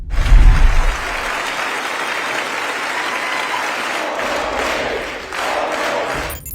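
A crowd of the president's supporters, all dressed in white, cheering him on with sustained applause and crowd noise that opens with a loud burst, then holds a steady roar throughout.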